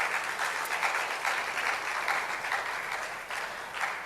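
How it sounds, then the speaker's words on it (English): A conference audience in Abuja gives steady applause, a continuous crackle of many hands clapping at moderate loudness for about four seconds, with no speech over it. "A round of applause for her, please."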